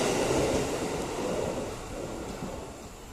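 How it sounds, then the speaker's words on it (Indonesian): Commuter train rolling through a station: a steady, broad rumble of wheels and carriages, moderately loud and gradually easing, with no talking. "Saya nggak usah videokan kereta itu lewat ya"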